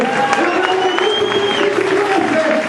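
A church congregation applauds during a sermon, steady crowd clapping with voices and cheering mixed in, loud and continuous throughout.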